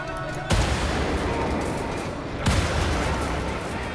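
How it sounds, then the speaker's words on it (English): Two heavy grenade explosions in Wolfenstein: The New Order boom about two seconds apart, each a loud, broad blast trailing into a rumbling, noisy wash. "You guys may not use grenades, but I will!"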